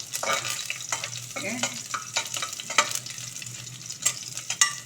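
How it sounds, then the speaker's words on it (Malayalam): Crushed ginger sautéing in a pan for a curry, a steady sizzle with repeated scraping and stirring strokes from a spoon, close and fairly loud. "ഇതെല്ലാം കൂടി ഇങ്ങനെ വഴറ്റുക"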